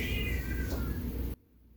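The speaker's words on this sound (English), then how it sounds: "The cat's yelling at me." A loud, drawn-out cat meow close by, a single insistent call that cuts off abruptly into quiet room tone.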